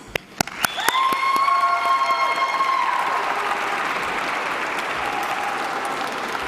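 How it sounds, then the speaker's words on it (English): An awards ceremony audience breaks into applause and cheering, starting with a few sharp claps and a whoop, then swelling into sustained dense clapping with scattered shouts that holds steady throughout. "I want you to give your recognition and your applause as a former student, a BCA alumnus, returns to earn a very well-earned prize"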